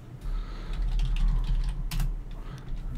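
Someone types on a computer keyboard in quick, uneven bursts of soft key clicks, a sharper clack near the middle, over a low steady background hum.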